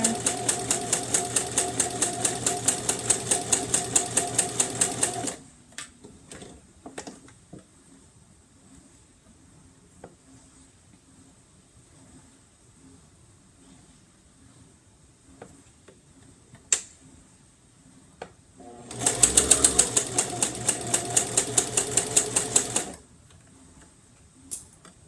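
Sewing machine stitching a star student lunch box, rapid even needle ticking in two bursts, the first about five seconds and the second about four, with quiet handling noise and clicks between.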